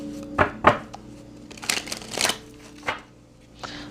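Tarot cards are shuffled by hand in a handful of quick, crisp riffling bursts separated by short pauses. The sound is close by and there is no talk over it.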